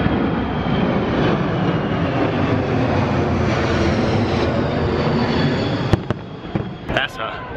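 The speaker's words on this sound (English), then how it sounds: "That's a big plane." A large airplane roars low over a crowded NASCAR raceway at Pocono, a loud steady broadband rumble that fills the clip before easing off, with crowd noise and brief sharp sounds at the end.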